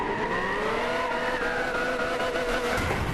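Car in Gran Turismo 6 doing a burnout, a steady high engine drone with a faint tire squeal running continuously and loudly throughout, no talking.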